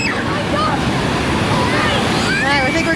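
Waves surging in the Typhoon Lagoon wave pool, a loud steady rush of churning water with wind buffeting the microphone, voices and faint shouts scattered over it.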